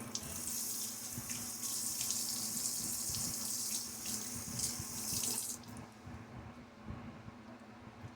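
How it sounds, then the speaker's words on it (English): Tap running steadily into a bathroom sink during a wet shave, with splashing as water is scooped to the face, close and even, then the flow quietens to a softer trickle near the end. "And now, quick little water splash."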